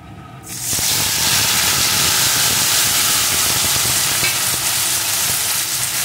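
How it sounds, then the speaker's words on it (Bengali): Red amaranth greens dropped into a hot frying pan with fried spices burst into a loud, dense sizzle that holds steady while being stirred, close and continuous. "এখন শাকটাকে কিছুক্ষণ নাড়িয়ে নেব।"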